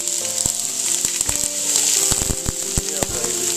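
Butter sizzling as it hits hot oil in a pot, a bright continuous close hiss broken by sharp crackles and pops scattered across the whole stretch.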